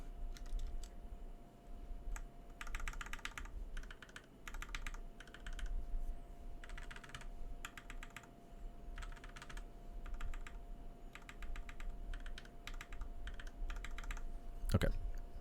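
Bursts of clicky typing on a mechanical keyboard, first on unlubed switches and then on lubed ones with a matching keycap, coming in repeated runs of rapid keystrokes over a steady background hum.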